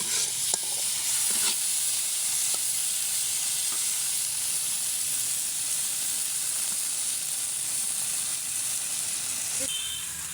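A pan of frying gourd flowers, bean flowers and beans hisses in a steady, moderate sizzle, with occasional scrapes of stirring over the continuous crackle.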